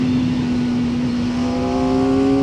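Kawasaki Ninja ZX-4RR engine bogging down in the wrong gear, a loud steady droning note close by with a low strained tone and no clear rise in revs, alone without talk.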